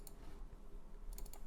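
Quick clicks of typing on a computer keyboard, a short burst of keystrokes near the start and another cluster toward the end, fairly close and moderately quiet.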